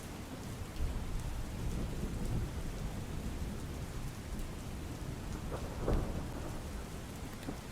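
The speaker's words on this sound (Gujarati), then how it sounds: "લાંબા વિરામ બાદ વરસાદ શરૂ થતા અસહ્ય ગરમીથી લોકોને રાહત મળી" Steady rain pours down on streets in Bardoli, Surat, after a long dry spell, with a couple of rumbles of thunder rising briefly above the constant hiss of the downpour.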